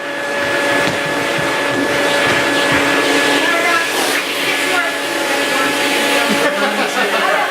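A Rainbow vacuum cleaner runs with a loud, steady whine and rushing airflow as it sucks up a small hairball from the floor, droning continuously throughout.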